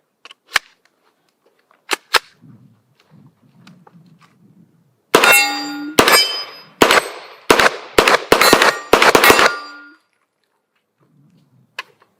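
A Mac 11 submachine gun fires at steel targets: a few isolated shots, then a rapid cluster of loud bursts with sharp metallic clangs ringing off the steel, followed by quiet and a final faint clang.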